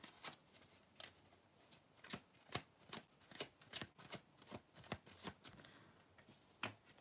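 Tarot cards being shuffled and drawn, a steady run of crisp riffling snaps and flicks repeating through the whole stretch, fairly close and without talk.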